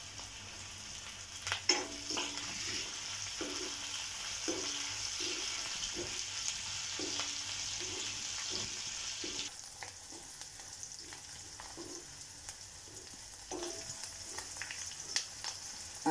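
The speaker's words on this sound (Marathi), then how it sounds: "आल्या लसणीचा रंग बदलेपर्यंत आपल्याला परतायचं आहे" Green chillies, ginger and garlic sauté in oil for hotel-style dal tadka, a steady soft sizzle with a series of regular light stirring scrapes and taps against the pan, quiet and close.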